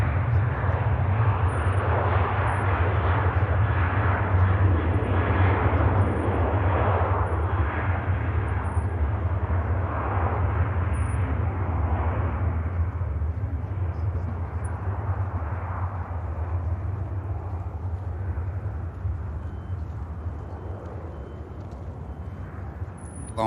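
A TUI airliner bound for Tenerife makes a long takeoff roll at Manchester Airport in winter, a steady broad jet roar with a strong low rumble that holds loud and even throughout, easing slightly toward the end.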